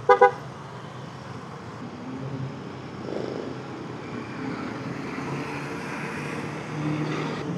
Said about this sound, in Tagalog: Naku, dami sasakyan.